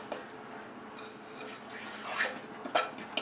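Egg is being mixed into cookie dough in a bowl, giving quiet scraping and stirring with a few light clinks of a utensil against the bowl.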